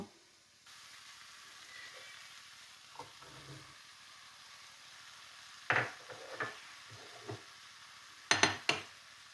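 Sliced yellow and red capsicum fry in a pan with a soft, low sizzle. Several sharp clatters and scrapes from stirring come through, louder toward the end.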